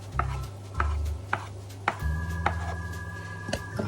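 Potato gnocchi dough cut into small pieces with a knife on a board, a series of sharp, evenly spaced taps close by, between low steady humming.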